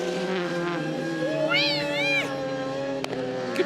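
Rallycross cars with a new engine setup circle the Grenland circuit in Norway, a loud sustained droning engine whine with shifting pitch, heard under a commentator's talk.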